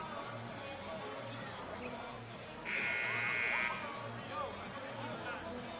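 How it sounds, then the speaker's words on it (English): An arena buzzer blares for about a second over steady crowd noise and a commentator's voice at a Fordham vs St. Bonaventure men's college basketball game near the finish. "Buzzer sounds, and we're set for a thrilling finish here."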